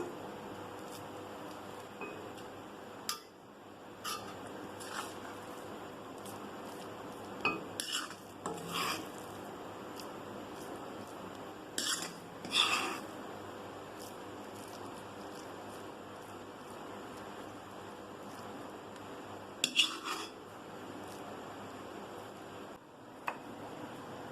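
Utensils clink and scrape against a plate while beach sundal is served, with scattered light taps and a few sharper clatters over a quiet background and no talking.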